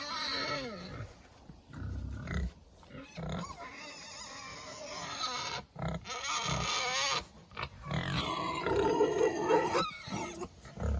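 Pigs in a pasture grunt and snort close by in a busy, overlapping chorus of low, rough calls with occasional higher squeals, continuing throughout.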